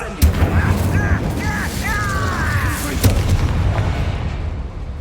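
A Confringo fire spell goes off in Hogwarts Legacy: a heavy booming blast near the start, then swirling magical tones and a second thud, under game ambience and a spoken voice.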